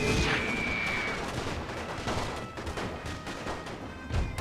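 Dense, continuous gunfire and artillery from the First World War strategy game The Great War, playing as Austria-Hungary, with rattling bursts and booms blending into a steady loud battlefield din.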